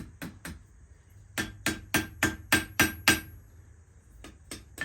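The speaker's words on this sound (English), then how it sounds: "take one of my smaller hammers, and I'm going to tap the end over" Small hammer tapping the end of a coal-fire-heated iron piece on an anvil, drawn to a fine point and being bent into a semicircle; sharp metallic strikes, a couple, then a steady run of about seven, then a few more, close and clear with no talk.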